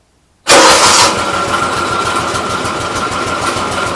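A car engine cranks and catches after a moment of silence, flaring loudly for a split second and then settling into a steady, even idle that runs on without any voices.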